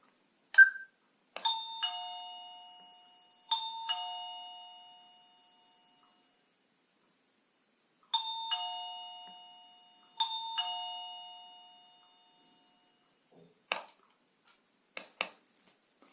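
An Orno OPERA DC battery-powered wireless doorbell receiver plays clear electronic ding-dong chimes, each with a bright tone that rings out and fades, repeated four times with pauses, then a few faint clicks near the end.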